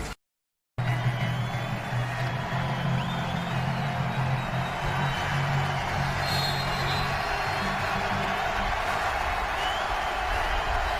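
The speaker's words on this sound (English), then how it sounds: "Crowd is into it as the Redskins start from the 9." A football stadium crowd at a Redskins-Jaguars game in Jacksonville keeps up a steady, distant roar. A commentator's voice runs faintly underneath.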